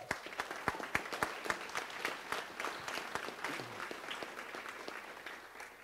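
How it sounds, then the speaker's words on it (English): Applause from a crowd at a college cross country team reunion celebration, steady clapping with sharp individual claps standing out, filling the whole stretch at moderate level. "give yourselves another round of applause."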